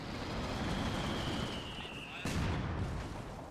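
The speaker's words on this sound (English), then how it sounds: "artillery is getting called down on the fuel here" Artillery fire in Company of Heroes 2 during a 4v4 match: a dense, roaring barrage of rumbling blasts fills the scene, with a sharp fresh impact breaking in partway through.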